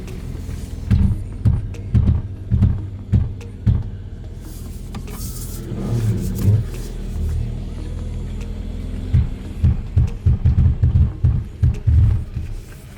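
A Mercedes C43 AMG 4MATIC on factory run-flat Pirelli tyres in cold winter weather, crabbing while manoeuvring at low speed: repeated deep thumping and scrubbing bursts under a steady engine rumble, heard from inside the car.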